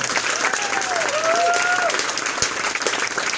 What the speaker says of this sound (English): let's have a round of applause for both of our combatants.